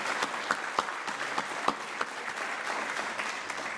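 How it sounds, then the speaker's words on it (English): Guests at the Pendleton Rhinos Black & Gold Gala give a fairly soft, steady round of applause, with a few distinct louder claps standing out from the room-wide patter. "Let's give Mr. Caleb Weidman another round of applause"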